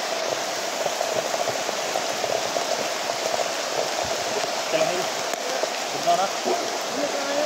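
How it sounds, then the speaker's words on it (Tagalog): Heavy rain pours in a steady, loud, close wash that continues without break, with a muffled voice faintly beneath it. "Sabi lakas ng ulan guys."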